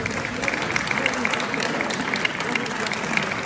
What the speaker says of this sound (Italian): Volevo un applauso.